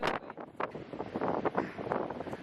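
Strong wind on the Oregon coast buffets the microphone in a steady, rumbling roar with gusty surges, no voices.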